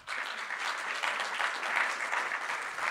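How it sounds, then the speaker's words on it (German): Audience applause at a hunting association conference on forests and wildlife, honoring the behind-the-scenes technical staff; a steady round of clapping rises quickly and continues evenly at moderate volume. "Vielleicht ein kleiner Applaus für alle diejenigen, die im Hintergrund arbeiten."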